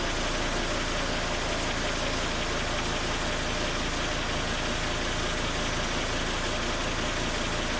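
A 2005 Volvo XC90 turbo engine idling with falling fuel pressure, just before it stalls: a loud, steady, close rumble with a faint knock in it, running alone throughout.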